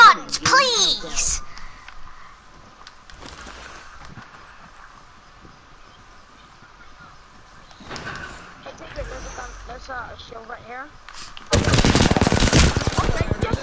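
Video game gunfire: brief shots early on, then a long, loud, rattling burst near the end, with people talking in between.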